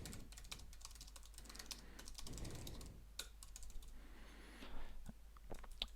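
Code being typed on a computer keyboard, quiet clicking keystrokes in irregular quick bursts, close and alone.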